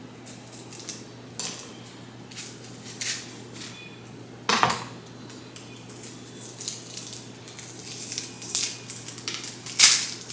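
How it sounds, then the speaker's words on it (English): A knife cuts onions on a board in a home kitchen, giving a series of irregular sharp chops and crunches, close and moderately loud, with faint handling noises between strokes. "I'm praying these onions don't make me cry. That I'm able to cut them normally."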